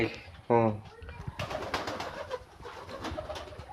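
A large pigeon lets out a deep, rolling coo up close at its keeper's loft, followed by softer bird murmurs and someone talking over the flock.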